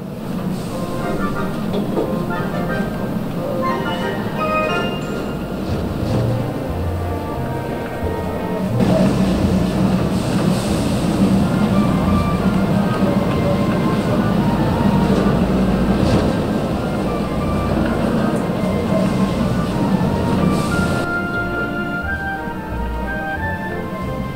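A continuous low rumble of a train in a video game, steady and moderately loud, with faint clanks and a brief swell in the middle.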